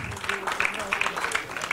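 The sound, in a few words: audience applause for producer Salman Khan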